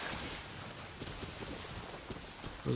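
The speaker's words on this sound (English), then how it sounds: "And I almost got hit by lightning again." Steady heavy rain pours in a Genshin Impact storm, a dense hiss with low rumbling thunder underneath and a louder swell at the very end.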